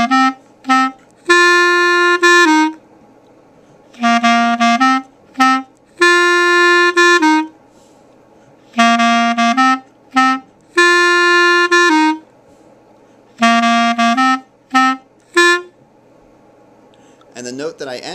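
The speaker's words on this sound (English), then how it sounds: "to play the entire Hey song, we're going to play those two phrases together, and we're going to do it four times" A clarinet plays the Hey song as short phrases of clear, sustained notes separated by brief pauses, repeated several times, loud and close.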